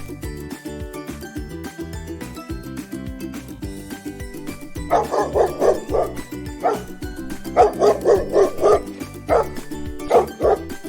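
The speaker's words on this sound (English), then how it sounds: "dog," A dog barks in quick bursts of several yips and barks, fairly close and clear, over a bouncy children's music track playing throughout.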